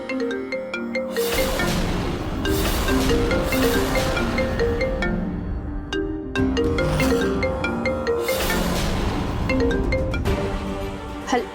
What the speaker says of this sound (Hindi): यहाँ जी का फ़ोन बज रहा है और वो भी कोई अननोन नंबर है।